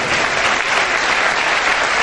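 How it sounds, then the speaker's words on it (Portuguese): A church congregation applauding, a dense, loud, continuous wash of many hands clapping together, steady throughout with no talk. "Você pode aplaudir o Senhor por isso?"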